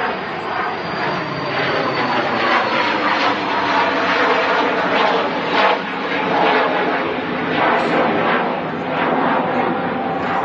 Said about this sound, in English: There is a EasyJet lining up on 23 right.